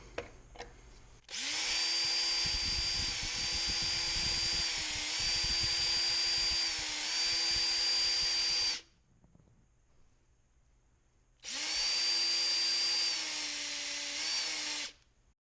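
A power tool runs at low speed on a stainless steel Corona 3354 weeder, giving two close, steady high-pitched whines, the first about seven seconds and the second shorter, with a quiet pause between.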